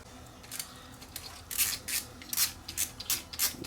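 Scissors snip through damaged 8mm video cassette tape in a quick series of crisp, close cuts, starting faint and becoming sharper and more rhythmic after a quiet opening.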